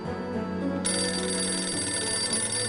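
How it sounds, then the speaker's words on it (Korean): An old-style telephone bell rings steadily and loudly up close, in a scene of a Korean audio drama of an Arsène Lupin detective story, a continuous trilling ring with no voices over it. "대장, 전화가... 내가 받지."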